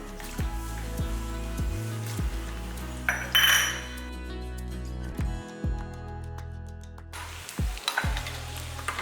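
Cashews and raisins sizzle in ghee for a sweet pongal tempering, a steady close frying hiss broken by a spoon scraping and clinking against the metal pan.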